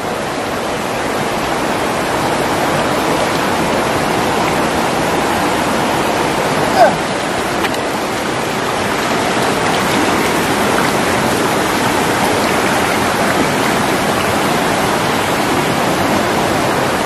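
Clear water of a forest stream rushes and splashes, a steady loud broadband flow that stays unchanged throughout with no break.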